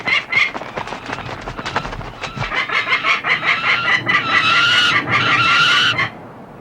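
A young peregrine falcon near a hack box gives a rapid series of harsh, loud cries that grow into a sustained shrill, repeated wailing call close by, then cut off abruptly.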